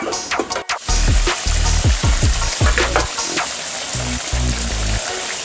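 Yam curry with dried fish cooking in a pan, a close, loud bubbling sizzle with repeated stirring scrapes and spatula knocks in an uneven rhythm.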